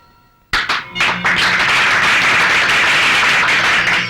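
An audience at a wedding breaks into sudden applause after a moment of quiet, a few sharp opening claps swelling into loud, sustained clapping from many hands.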